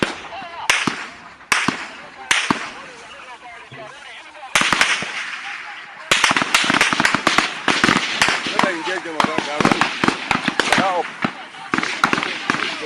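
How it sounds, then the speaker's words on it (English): Sharp gunshots from people firing on high ground, a few isolated cracks early and then a dense run of rapid bursts, loud and near. "Those who are at the high ground, please stop firing."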